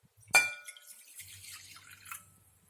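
Water is poured for a Canary Islands pella de gofio recipe: one sharp splash and clink, then a soft, faint trickle of liquid that fades away, with no voices.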